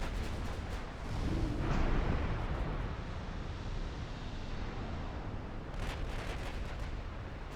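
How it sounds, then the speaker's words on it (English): Heavy 17-inch naval gunfire in the naval warfare game Ultimate Admiral Dreadnoughts, a loud rumbling boom swelling near the start and sustaining a dense roar, with another surge late on and no speech. "17-inch gunfire."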